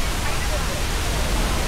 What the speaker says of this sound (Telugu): ఇదే సోచిపారా వాటర్ ఫాల్